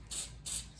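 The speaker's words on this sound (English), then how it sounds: "start spray painting that. And you can see that it's turning gold." Spray paint can hissing gold paint onto an Oreo cookie in three short, close bursts, each lasting a fraction of a second with brief pauses between.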